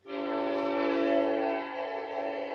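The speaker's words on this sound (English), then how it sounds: "Oh God, we got a loud train." A loud passing train sounds its horn in a long, sustained, blaring blast that fills the whole stretch, heard alone over a faint low rumble.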